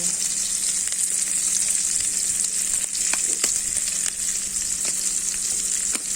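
Onion and garlic sauté in hot oil with a loud, continuous sizzle. Occasional crackles and pops sit on top of it, close by and with no talking.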